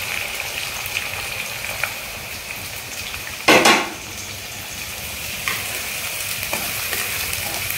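Onions fry in a pan for a Kolkata-style mutton curry, giving a steady sizzle. Scattered scrapes and clinks come from stirring, and one sharp utensil knock stands out midway.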